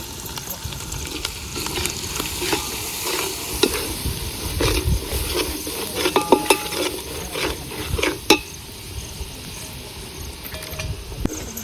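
Roasted flour fries in a hot pan with a steady sizzle, broken by irregular stirring scrapes and light clinks of a utensil against the metal.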